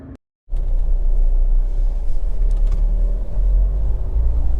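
Honda HR-V 1.6 i-DTEC diesel engine idling, heard from inside the car as a loud, steady low rumble that holds constant after a brief cutout at the start, with no talking.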